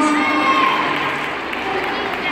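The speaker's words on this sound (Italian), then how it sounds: "facciamo un applauso" Audience at a school event cheers and applauds the students, a loud, dense crowd roar of shouts and whoops with clapping mixed in, steady throughout.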